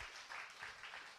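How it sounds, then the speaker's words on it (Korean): A church congregation applauds their pastor during a missionary's special lecture, a soft, steady wash of clapping heard faint and somewhat distant. "우리 목사님 박수 한번."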